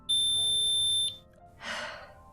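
Toaster beeping in the Fallout video game: a single sustained high electronic beep lasting about a second, followed after a short pause by a breathy gasp-like rush of noise.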